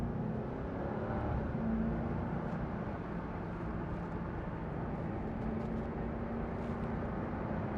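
A 2004 Cadillac XLR with 28,000 miles cruises along, its exhaust a steady, low droning rumble with no talk over it, fairly quiet and even throughout.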